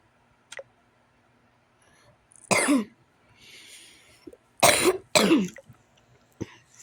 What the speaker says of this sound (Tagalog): Grabing ubo ko.